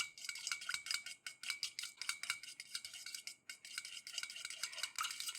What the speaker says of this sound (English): I'm gonna use a fork, and you just whisk it